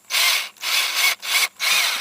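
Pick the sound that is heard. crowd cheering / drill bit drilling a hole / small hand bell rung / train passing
drill bit drilling a hole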